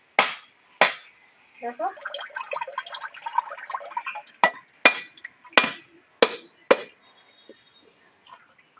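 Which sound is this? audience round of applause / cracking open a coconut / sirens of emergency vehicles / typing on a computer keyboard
cracking open a coconut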